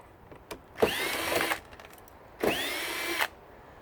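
Two bursts of a power drill backing screws out of a carpet cleaner during a teardown, each whirring for under a second with a rising whine, separated by a pause with small clicks and handling noises.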